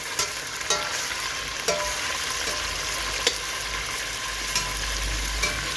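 Meat sizzles in a pot as it is sautéed for an Uzbek meat soup, a steady frying hiss broken by occasional clacks of a utensil stirring, close and alone without talk.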